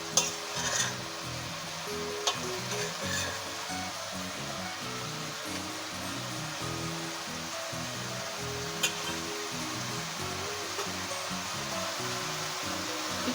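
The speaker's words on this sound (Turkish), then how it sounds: "2 dakika bu şekilde hafifçe karıştırarak pişiriyoruz." Leeks fry in a pan with a steady sizzle while being gently stirred, scraping and turning sounds repeating in a loose rhythm, close and continuous with no talking.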